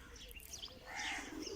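Pigeons kept at a farmhouse coo softly in a short, faint burst, with a few chirps over a dull background hum.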